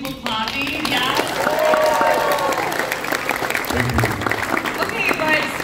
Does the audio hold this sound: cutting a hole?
no